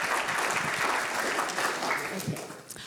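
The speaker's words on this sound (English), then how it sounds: "So can we have a massive round of applause for Lisa Noland?" Audience at a child protection conference in Wales giving loud, sustained applause with a few cheers, the clapping thinning out toward the end.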